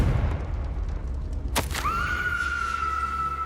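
A Confringo blast spell in Hogwarts Legacy lands as a sharp burst and boom, leaving a sustained ringing magical tone that fades slowly over a low rumbling ambience.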